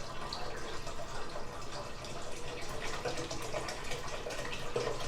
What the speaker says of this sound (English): Makes a bit of a mess, so you try to pour slow with the apple cider going in.